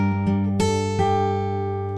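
Acoustic guitar played fingerstyle on the first bar of the Harry Potter theme, a few plucked notes ringing out and sustaining, close and clear with no voice.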